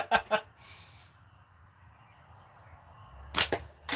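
Slingshot shots at a target: a pair of sharp snapping cracks at the start, a quiet stretch with faint background sound, then two more close, crisp smacks near the end.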